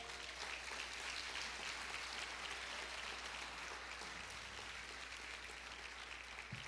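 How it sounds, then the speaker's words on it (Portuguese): A church congregation applauds steadily for several seconds, a dense, even wash of clapping that fills the room without pause and with no voices rising above it. "Dá um aplauso ao Senhor então por isso."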